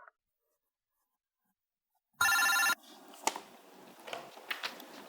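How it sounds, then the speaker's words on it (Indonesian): A desk telephone in an office rings once, a short loud electronic burst, followed by light rustling and clatter nearby. "ada telepon dari Pak Restu di line 1"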